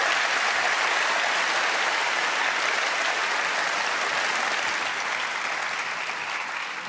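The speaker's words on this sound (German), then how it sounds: "da kann man schon mal klatschen" A large awards show audience applauds in a dense, steady wash of clapping that holds for several seconds, then begins to thin slightly toward the end.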